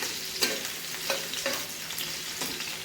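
Potatoes fry softly in oil in a pan, a steady low sizzle punctuated by a few brief stirring scrapes, fairly quiet and with no voices.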